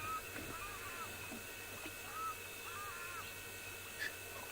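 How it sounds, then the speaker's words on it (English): Birds call softly from a distance, repeating short hooting notes over a faint steady hiss. "I don't know if you can hear the birds calling"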